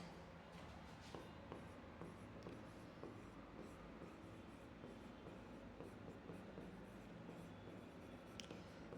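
Marker or chalk writing on a classroom board during a chemistry lesson, a soft continuous scratching and rubbing with small taps, faint and steady against room noise.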